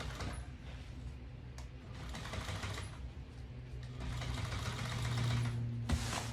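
Sewing machine stitching tape onto the edges of a boat cover, a steady rapid mechanical whir that pauses briefly and restarts, fairly close and alone.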